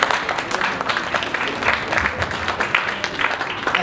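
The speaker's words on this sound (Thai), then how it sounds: "ผมก็ขอปรบมือให้กับทาง ไอเจนทุกคนด้วยนะครับ" Applause from the audience at a staff party held at a resort dinner, a dense steady patter of many hands clapping at moderate volume for the whole stretch, with faint voices mixed underneath.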